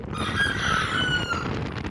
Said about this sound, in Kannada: ಈ ಕೋಳಿ ಯಾಕೋ ಹೋಗ್ತಾನೆ ಇದೆ, ಕೊಯ್ದು ಬಿಸಾಕ್ಬಿಡ್ತೀನಿ. ಸ್ವಲ್ಪ ಡಿಸ್ಟರ್ಬೆನ್ಸ್ ಜಾಸ್ತಿ ಆಗ್ತೈತೆ.